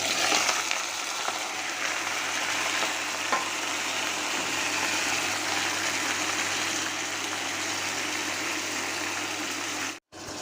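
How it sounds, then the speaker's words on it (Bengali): Beef pieces fry in hot oil with onions, a steady broadband sizzle that holds for about ten seconds and drops out briefly near the end, with no talking. "তেল আর পেঁয়াজের মধ্যে দিয়ে একটু ভেজে নিলাম"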